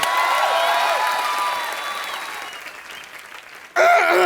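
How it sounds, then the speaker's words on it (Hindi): Studio audience applause on the Kapil Sharma Show, an Indian TV comedy show: a dense, steady wash of clapping that slowly fades, then a sudden louder burst of other sound cuts in at the very end. "ताली बजाओ रे इंडियन आइडल पर"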